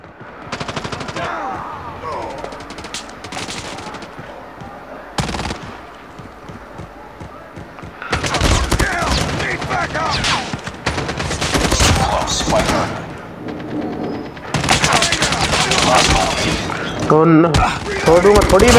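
Rapid bursts of automatic gunfire and shots from the video game Call of Duty, loud and repeated, with a voice talking over the action.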